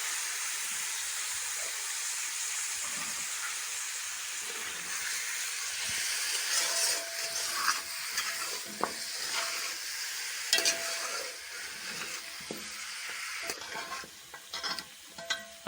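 Mutton being fried and stirred in a pan for okra curry, with steady sizzle and scraping stir strokes that grow busier and more clattery partway through, close and alone without talk.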